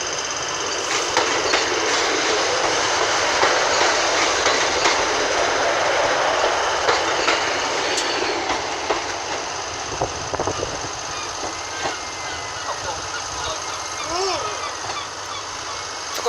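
Class 156 diesel train unit 156 416 at platform 4 of Norwich station: a steady, loud engine rumble and broadband station noise continue throughout, with faint squeals near the end.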